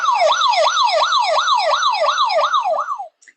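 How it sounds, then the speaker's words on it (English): An ambulance siren wails loudly and steadily in a repeating rising-and-falling sweep, about ten cycles in a row, then cuts off abruptly at the end, used as a sound effect in a radio show. "can the ambulance blast the siren on the way to the hospital?"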